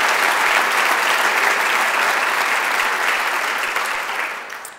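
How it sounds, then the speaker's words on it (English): Dense, sustained clapping from a large audience at a school district tribute dinner for teachers and staff, loud and even before gradually tapering off at the end. "Let's give one more round of applause for the 3 finalists"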